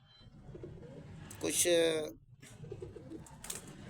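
Pigeons coo softly close by, a brief rising call in the middle over a low murmuring background, with a voice speaking briefly.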